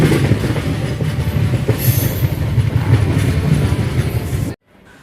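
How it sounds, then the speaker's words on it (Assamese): A passenger train rumbles at a dark railway platform at night, with steady loud rolling wheel noise and rail clatter filling the air before it cuts off abruptly near the end. "আন্ধাৰ প্লেটফৰ্মত মই আৰু মোৰ পিছপিনে ট্ৰেইন।"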